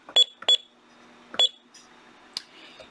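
A Honeywell alarm keypad, on a Safewatch QuickConnect / Ademco Lynx panel, gives four sharp, close electronic beeps at uneven intervals as keys are pressed during programming, with quiet pauses between them.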